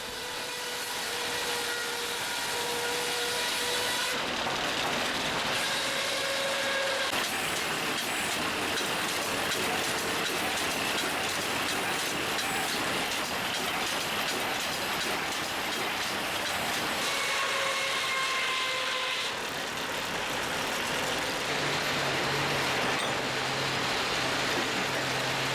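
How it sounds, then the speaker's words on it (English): A near 100-year-old steam-powered sawmill runs at a field day of antique machinery, giving a dense, steady mechanical roar with hissing steam, rhythmic clatter and occasional whining tones throughout, loud and close without talk. "With the sawdust piling up and the hissing of steam around you"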